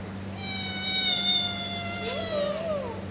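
A cat gives one drawn-out, clear meow close by, followed by a shorter rising-and-falling meow, over a quiet low hum.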